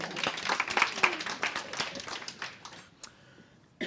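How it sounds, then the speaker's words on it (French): Audience at a conference applauding a speaker, a scattered burst of clapping that thins out and fades after a few seconds, heard from a modest distance. "on peut l'applaudir"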